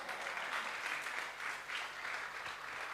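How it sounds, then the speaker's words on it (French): A church congregation applauds for Jesus at a French-language service, steady broadband clapping from many hands filling the room, with no talk over it. "applaudissez pour Jésus, s'il vous plaît."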